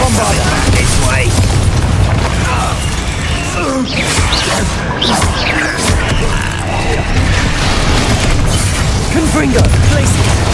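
Bombarda blasting spells in the video game Hogwarts Legacy, mixed into a dense, loud battle din of booms, crashes and bursts that never lets up, with voices calling out over the chaos.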